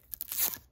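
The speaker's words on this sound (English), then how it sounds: "obviously we gotta peel the sticker off" A sticker being peeled off the wrist rest of a Roccat Vulkan Pro gaming keyboard: a short, close, crackling tear made of several quick bursts, with no talking.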